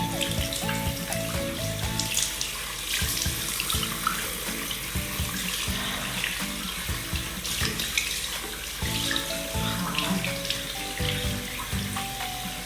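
Tap water runs into a sink while a face is washed, a steady close splashing stream with irregular hand splashes and gurgles throughout, with a faint musical tone underneath.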